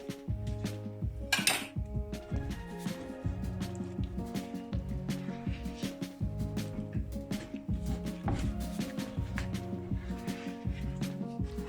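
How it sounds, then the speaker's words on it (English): Cashew barfi mixture is stirred continuously in a pan over a low flame, a steady rhythmic scraping and clinking of a spoon against metal that repeats throughout. "Stir continuously on low flame so it wouldn't stick to the pan."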